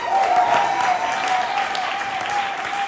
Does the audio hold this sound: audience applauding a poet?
yes